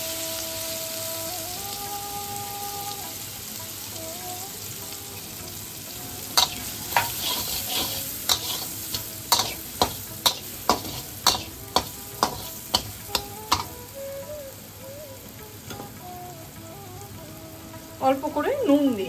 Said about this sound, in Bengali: ওই তেলেই এবার পিষে রাখা পটল আর নারকেলটাকে দিয়ে দিচ্ছি।